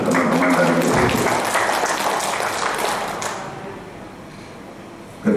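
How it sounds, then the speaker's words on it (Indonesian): An audience applauds at a ceremony installing South Sumatra's governor as council chairman, a broad wash of clapping that fills the room and then fades away over a few seconds, with a voice faintly present. "Tepuk tangan untuk teman-teman dari DPP."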